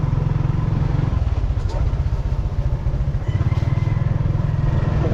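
A nearby motorcycle engine throbs in loud, steady low pulses that dip briefly before returning with strong, rapid beats.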